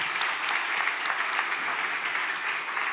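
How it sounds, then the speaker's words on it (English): An audience at a cybersecurity standardisation conference applauds a panel, dense steady clapping from many hands sustained throughout at an even level. "you get a big round of applause for this panel"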